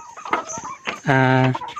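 Chickens clucking up close, with a drawn-out, strongly pitched call near the end standing out over softer scattered clucks.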